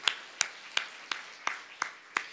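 A church congregation claps together during a Sunday worship service, seven crisp claps landing in an even, brisk rhythm, with no voices over them.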